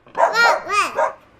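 A young child imitates a dog barking with four rhythmic, voiced 'woof'-like calls, close and clear with no other sound behind them.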